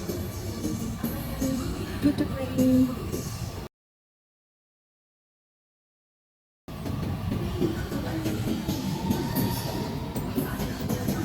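An MRT train rumbles and rattles as it pulls away, wheels clattering steadily, with a stretch of silence midway and faint voices in the background.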